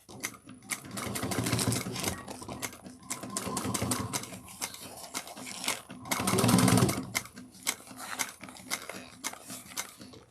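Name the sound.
sewing machine sewing a quarter-inch seam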